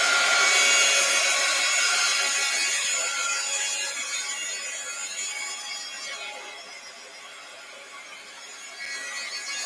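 A heat gun blows steadily with a broad airy roar, loud and close at first and easing slightly later, used for paper crafts and book pages.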